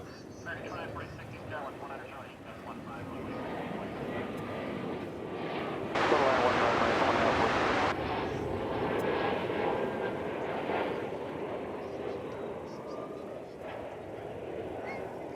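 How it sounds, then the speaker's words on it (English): Yellow Spirit Airlines Airbus A320 jet departing DFW Airport, a steady engine roar that swells sharply for a couple of seconds mid-clip, heard under a voice talking throughout. "Next out is Spirit Airlines Flight 867. It's an A320, bright yellow for some reason."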